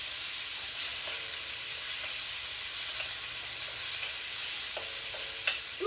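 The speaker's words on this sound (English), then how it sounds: "you always want to keep whatever you have in the wok moving." Shrimp and meat stir-frying in a wok, a steady soft sizzle with occasional scrapes and clinks of stirring, fairly close and continuous.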